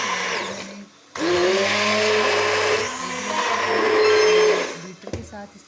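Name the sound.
electric beater churning cream to make butter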